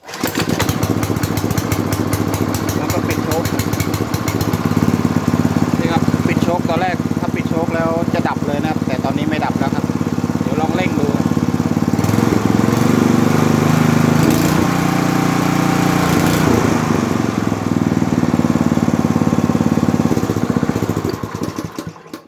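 A Kumking water pump engine, carburetor cleaned and chewed wiring repaired, runs loud and steady with a buzzing small-engine drone, rising as the throttle is opened partway, while someone talks over it.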